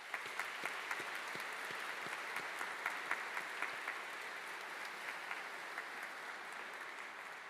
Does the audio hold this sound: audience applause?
yes